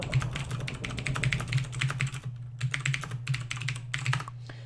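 Rapid typing on a computer keyboard, dense bursts of key clicks in quick rhythm with a short pause midway, close and clear over a steady low electrical hum.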